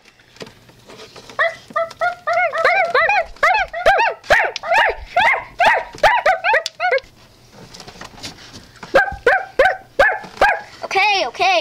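A puppy yips and whimpers in rapid high-pitched bursts, loud and close, with a quieter pause before a final run of yelps and cries.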